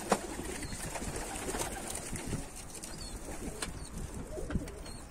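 Pigeons, Akkanat white-tailed tumblers, coo softly nearby over a steady outdoor hum, with scattered faint rustles and a few sharper taps.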